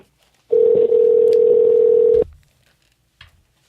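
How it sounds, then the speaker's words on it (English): A single loud, steady telephone tone sounds for nearly two seconds, then cuts off abruptly into silence as a call is placed. "we are going to give Cheryl a call."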